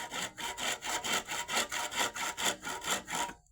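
Wood being cut with a hand saw, a steady back-and-forth rasp of roughly a dozen even strokes, close and fairly loud, stopping abruptly at the end.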